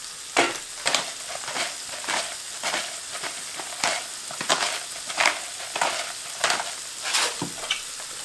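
An omelet and mushrooms fry in an Outbound stainless steel frying pan, a constant close sizzle broken by repeated scraping, stirring strokes at an irregular rhythm.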